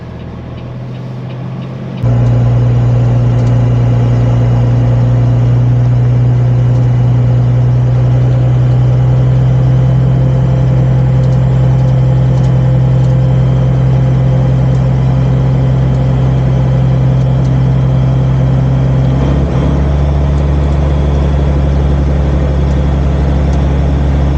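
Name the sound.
truck engine while reversing down a dead-end road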